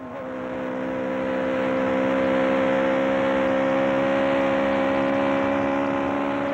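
A Ferrari Formula 1 car driven by Pironi runs flat out at Hockenheim, recorded onboard, its engine wailing in a loud, sustained high-revving scream that swells briefly and then holds steady, with no talking.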